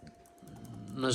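Keys clack on the worn keyboard of an old Samsung R528 laptop, several quick taps in a loose rhythm, close by, with a voice rising at the end.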